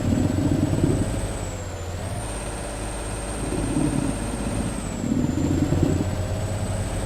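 A truck engine in Alaskan Truck Simulator labours slowly while hauling a heavy trailer, a steady low rumble with a faint whine above it, close and continuous with periodic surges in load.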